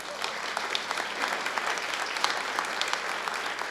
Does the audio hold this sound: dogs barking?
no